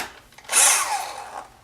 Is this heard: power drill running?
yes